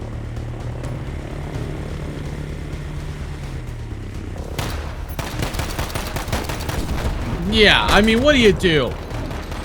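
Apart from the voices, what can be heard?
gunfight gunfire in the video game Warzone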